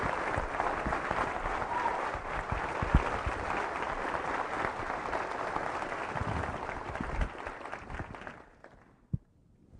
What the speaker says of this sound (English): So how about a great big Coronado round of applause for the Honorable Ray Mabus.